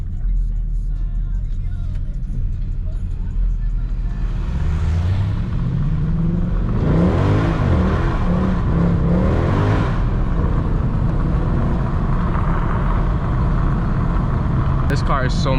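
Mercedes W204 C63 AMG V8 revving hard while driving with power slides and drifts: a loud, close, continuous engine roar that climbs and falls through repeated rev sweeps over a deep, steady rumble.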